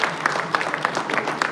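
An audience at a university engineering college alumni event breaks into loud, dense clapping, many hands close together in a steady crowd burst with no speech over it.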